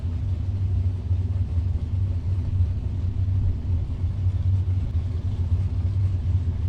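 Drag racing cars idle and rumble at a raceway starting line, including a Mustang powered by a big block Chevy engine; a steady, loud low engine drone holds throughout without revving.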